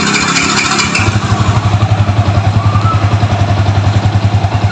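A Kawasaki Ninja FI motorcycle from 2014 idles after starting, its engine settling into a steady, close, rhythmic thump with some mechanical clatter over nearly five seconds.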